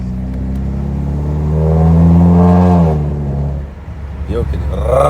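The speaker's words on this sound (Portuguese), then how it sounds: "Um ronco bonito quando você está acelerando, mas se você andar em baixa, ele dá muito estralo." Citroën DS5 THP fitted with a downpipe and straight-through exhaust revs up, its deep engine note swelling and falling over a few seconds with a sharp burst near the end, all close and loud.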